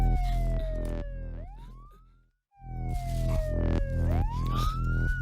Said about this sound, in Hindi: एम्बुलेंस की आवाज है